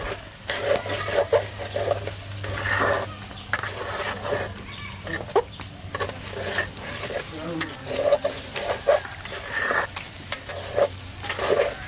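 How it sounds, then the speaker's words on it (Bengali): Rice fries in a pan with continuous soft sizzling and repeated scraping strokes of a spoon stirring it. The sound runs steadily with a low hum underneath. "নাড়াচাড়া করে আমি 2 থেকে 3 মিনিট ভেজে নেব।"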